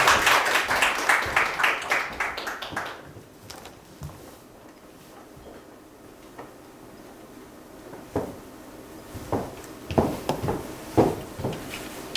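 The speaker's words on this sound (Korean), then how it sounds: "큰 박수로 환영해 주시면 감사하겠습니다" An audience at a university capstone design presentation claps to welcome a student presenter, a few seconds of rhythmic, fairly close clapping that dies away, followed by quiet room noise and scattered footsteps.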